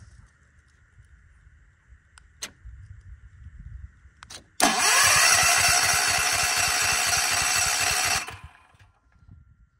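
A generator engine, choked and started by remote, gives a few clicks and knocks before catching with a sudden loud roar that runs steadily for about four seconds, then cuts off abruptly.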